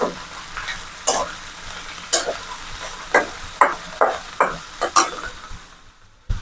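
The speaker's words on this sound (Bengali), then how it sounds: "ডিমগুলো এবার একটু নাড়াচাড়া দিয়ে নিলাম" Eggs frying in a pan are stirred with a utensil, giving a soft sizzle under a series of sharp, irregular scraping and clinking strokes against the metal, close and fairly loud.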